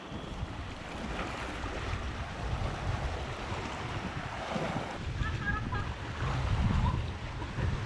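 Ocean waves wash in along the rocky Tenerife coast in Spain, a steady broad surf roar with wind buffeting the microphone and a louder surge near the end, while people laugh and call out nearby.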